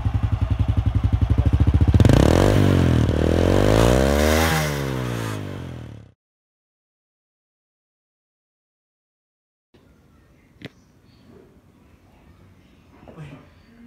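An old Honda Supra Fit motorcycle engine revs loudly up and down close by, then cuts out abruptly into silence, followed by faint background noises.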